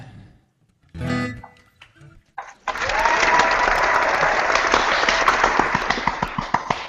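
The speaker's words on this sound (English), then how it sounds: "I love that applause sound thing" Applause sound effect bursting in after a short pause, dense steady clapping that holds loud to the end, following brief vocal sounds at the start.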